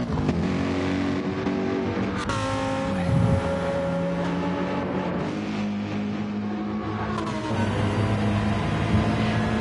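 A BMW GT race car in a sim racing game laps the Saint Croix track, its engine droning loud and close with rising and falling revs and gear shifts.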